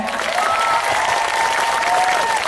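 Audience applause at a homecoming concert in Banyuwangi, a steady dense wash of clapping from a large crowd with a faint voice or tone running through it, continuous for the whole stretch.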